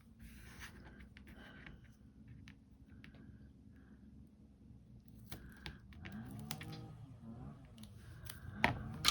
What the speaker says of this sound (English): I am going to cut this little bit off here